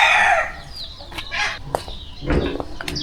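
Chickens cluck and a rooster crows in a village yard, with several close, overlapping calls and crows spread across the stretch and no talking.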